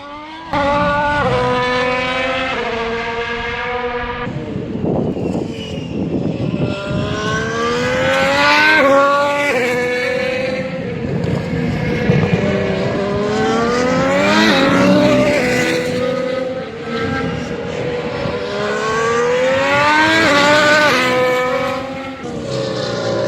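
Formula 1 cars during Barcelona testing scream past around the circuit's corners, loud high-pitched engine notes rising and falling as they brake, downshift and accelerate away, with several cars passing in succession over a continuous roar.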